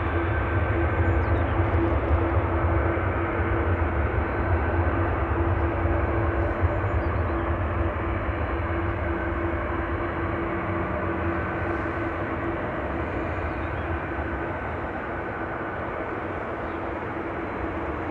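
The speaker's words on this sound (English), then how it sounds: "it says Ryanair Learjet 45 coming in from Stansted" A Ryanair Learjet 45 inbound from Stansted on approach to land at Amsterdam Schiphol, its engines a steady, moderately loud broadband drone with a low hum holding evenly throughout, no voices present.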